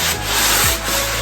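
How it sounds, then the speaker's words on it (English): Steady, close abrasive rubbing of sandpaper on drywall walls after wallpaper removal, continuous with slight surges in intensity, no voices. "he's sanding the walls"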